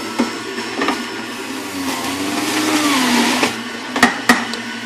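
Electric juicer motor whirring steadily while juicing tomato, a continuous mid-pitched hum that rises and shifts in pitch as the spinning speeds up, with a few sharp knocks from produce bouncing inside near the end.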